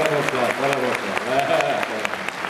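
Live audience applauding at a Slovenian folk music concert, a dense steady clatter of clapping running throughout, with a harmonic voice or instrument tone weaving underneath.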